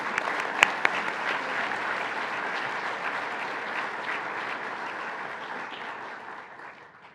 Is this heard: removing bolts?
no